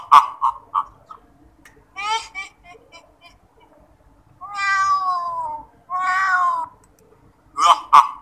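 Repeated cat meows in a Scratch horror game, a short one then two long drawn-out cries, mixed with quick clicking blips in a quiet background.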